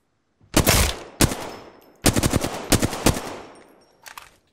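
Bursts of automatic gunfire from a gun in a video game, several rapid volleys in quick succession separated by short pauses, loud and close, ending with a fainter short burst.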